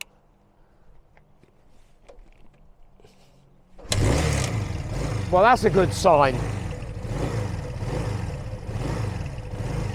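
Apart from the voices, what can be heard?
Honda Benly motorcycle engine kickstarted, idling and revving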